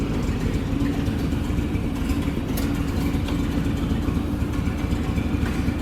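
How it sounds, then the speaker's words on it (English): A Buda engine in an American LaFrance fire truck idles steadily, a dense, even low rumble with no change in pace, close and fairly loud throughout. "This Buddha engine is just great."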